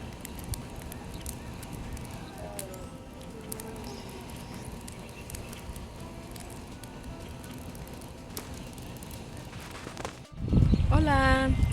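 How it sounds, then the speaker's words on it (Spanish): A backyard bonfire for s'mores in Ontario crackles and pops steadily for several seconds, with scattered sharp snaps over a soft background, and a voice joins near the end. "estamos aquí en la fogata porque mi esposo prendió una fogata para hacer los s'mores con Davidcito"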